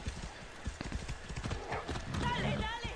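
Rhythmic hoof clip-clops with a horse whinnying near the end, loud and close, from the video game Far Cry 6.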